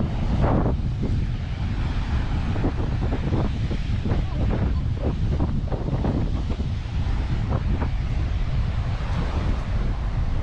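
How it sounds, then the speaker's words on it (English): Strong wind buffets the microphone in continuous rumbling gusts outdoors at Delray Beach at dusk, with a low roar and occasional sharper bursts. "It's really windy today."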